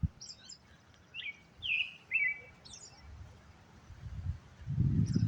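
Several short bright bird chirps and tweets ring out one after another on a clear-sky day, fairly near and distinct, over a low rustling background that swells toward the end; no one speaks.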